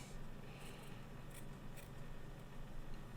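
Scissors snip through a tuft of Koh Gen Do Muji cotton wicking material for a vape coil, a few soft, close crisp cuts over a faint hiss.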